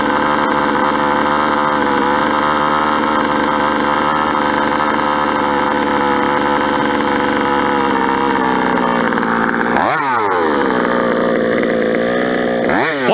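Gas engine of an Associated fifth-scale RC truggy, still being broken in, idling a little high with a steady, buzzing drone close by; near the end the revs dip and rise briefly in a couple of quick blips.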